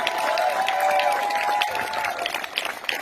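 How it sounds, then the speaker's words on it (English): Audience applause from a crowd, a steady dense clapping that holds for about three seconds and then thins out toward the end. "give these folks a big round of applause for putting this thing together"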